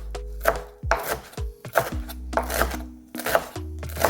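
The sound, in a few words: chopping parsley with a knife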